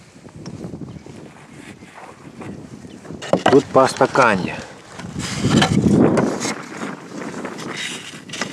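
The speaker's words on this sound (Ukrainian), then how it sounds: "Блін, вітер, це вітер не можна робити, а я ризикую." Gusty wind buffets the microphone outdoors at a beekeeper's apiary during a winter hive inspection, rising in rumbling surges under a man's close, hurried talk.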